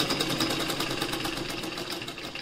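A sewing machine stitches a continuous bound placket in a steady, close, fast mechanical rhythm, running alone without pause.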